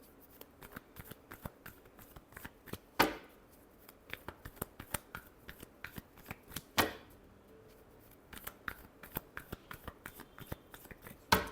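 Tarot cards being shuffled during a love reading, a steady run of crisp riffling clicks with two louder bridging bursts, close and fairly quiet with no talking.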